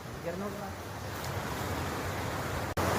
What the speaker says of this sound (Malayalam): ഇതാണ് പിന്നെ പുഴ ഒഴുകി പോകുന്നതാണ്